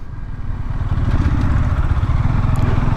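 A Bajaj Dominar 400 motorcycle rumbles steadily while being ridden, a low throbbing engine note that is loud and continuous throughout, with no voices.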